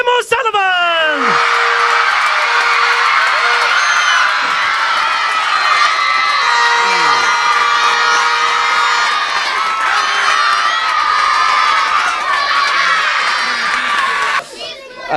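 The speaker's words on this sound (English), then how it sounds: "Massive big round of applause for Graham O'Sullivan." A large outdoor crowd at the South Kerry football final between Dromid Pearses and Skellig Rangers roars and cheers loudly for a player, with shouting voices and whistles sustained throughout before dropping away at the end.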